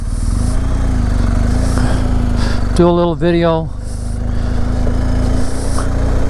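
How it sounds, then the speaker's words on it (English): Lowered 2019 BMW R 1250 GSA motorcycle engine idling steadily close by, a low continuous rumble throughout, with someone speaking briefly over it midway. "but that's the new 1250 GSA."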